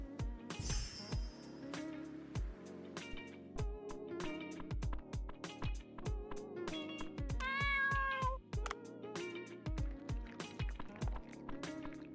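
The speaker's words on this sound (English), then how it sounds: "We fed the cat." Cartoon cat in the video game Dave the Diver meowing repeatedly, short bright mews over rhythmic plucky game music and clicking interface sounds.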